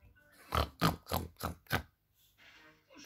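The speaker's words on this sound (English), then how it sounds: "Peppa Pig" Cartoon pig oinking from Peppa Pig, five loud rhythmic grunts in a quick row followed by a brief quiet stretch of faint background noise.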